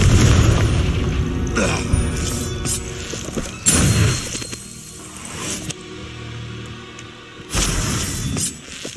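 Explosive Confringo spell blasts in Hogwarts Legacy, set in a cavern, arriving as several loud separate booms spaced a few seconds apart, each with a sharp crack and rumbling tail, with quieter game ambience in between.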